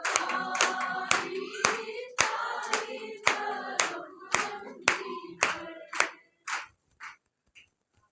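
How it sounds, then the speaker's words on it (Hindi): A church congregation claps in unison, a steady rhythm of about a dozen sharp, close claps with a voice under the first ones, slowing and thinning out toward the end. "आपकी तालियां ऐसे होनी चाहिए,"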